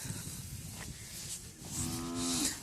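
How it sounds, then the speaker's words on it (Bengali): A cow moos near the India–Bangladesh border, one drawn-out low call near the end rising over faint outdoor background noise. "আর যে দেখেন গরু কিন্তু আরও আসছে আর আসতেই থাকবে"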